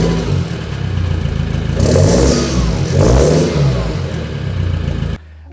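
A Land Rover Defender engine revs through a Demand 3-inch exhaust, rising in two throaty surges with mechanical clatter before cutting off abruptly, close and loud.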